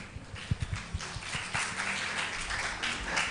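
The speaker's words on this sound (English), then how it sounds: "I think the boys can give him a huge round of applause." Audience at a school Children's Day session applauding a student speaker, with a few distinct near claps at first, then a fuller burst of clapping that stays moderate and fairly short.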